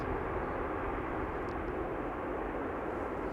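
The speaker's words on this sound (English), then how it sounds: "If you close your eyes, you'd think there's an E2 Embraer just passing by." A geared-turbofan airliner, similar to an Embraer E2, passes at Amsterdam Schiphol Airport with a soft, steady, distant engine roar and no talking.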